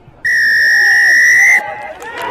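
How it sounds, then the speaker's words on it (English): A single long, loud blast of a rugby referee's whistle at a high school match, sounding for a penalty over faint crowd murmur before it cuts off. "goes straight to the whistle against the Crusaders"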